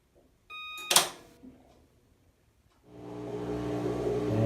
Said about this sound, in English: And there goes the pump. Sounds like it's working fine.